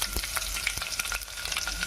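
Onion pieces frying in a pan, a dense crackling sizzle with a few sharp pops and stir scrapes, close and loud in a short burst without any talking.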